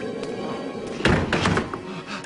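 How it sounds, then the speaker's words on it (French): Wooden door pushed shut in an animated Bible scene, a single solid thunk followed by a short rattle and settling knock, fairly close and alone. "Judas, ferme la porte."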